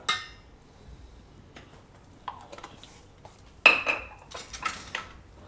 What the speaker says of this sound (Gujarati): આ બધું આપણે મિક્સ કરી લેવું.